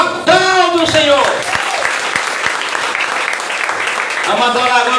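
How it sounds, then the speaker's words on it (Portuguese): A church congregation bursts into loud, sustained applause during a deliverance service, filling the room with dense, steady clapping, with a preacher's voice heard over it at the start and again near the end. "Aplauda o Senhor"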